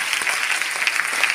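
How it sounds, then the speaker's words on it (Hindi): Enthusiastic clapping from an audience at a DXN success-story gathering, a short dense burst of applause heard on its own. "दिल से एक जोरदार तालियां होना चाहिए"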